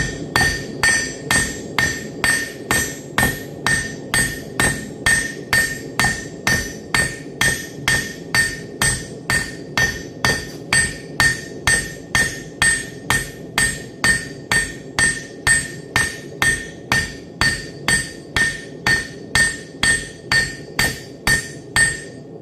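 A blacksmith hammers metal to draw it out into a finer point, with steady, evenly spaced ringing strikes about two per second, loud and close, continuing without a break and with no talking.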